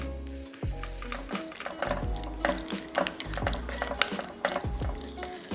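Doenjang, chili powder and anchovy fish sauce are stir-fried in a pot for a Korean beef brisket dish, with loud sizzling, wet bubbling and repeated scraping strokes of a utensil against the pan, close up and with no talking.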